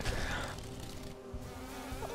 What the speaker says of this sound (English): Goddamn bees.